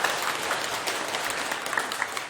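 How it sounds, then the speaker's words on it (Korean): An audience claps together, a dense, even burst of applause filling the room at close range and holding steady throughout, with no speech over it. "박수 한번 치세요"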